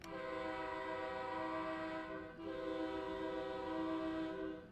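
An Acela Express electric train's horn sounds in two long, steady blasts in Train Sim World 4, heard from inside the cab under a continuous rolling rumble.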